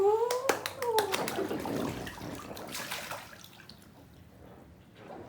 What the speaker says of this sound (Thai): น้ำกระเด็นเยอะละ